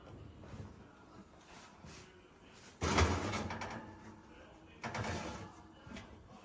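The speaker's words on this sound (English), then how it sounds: "Let me get these turkey wings out of the oven." An oven door swung open in a home kitchen to take out braised turkey wings, a sudden metallic rattle and thud followed by a second clatter, with faint talk between.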